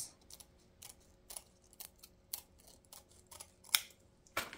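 Scissors cutting a piece off a roll of material for making poinsettias: a series of short, crisp snips at an uneven rhythm, close and quiet in a still room.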